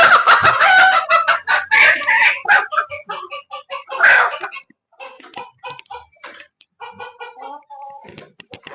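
A hen clucks and squawks loudly in rapid, agitated bursts, then settles into quieter, broken clucking.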